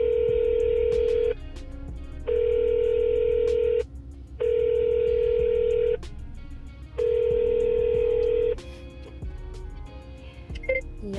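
An outgoing phone call ringing out with four long steady ring tones separated by pauses, loud and close in the earpiece, with no voices.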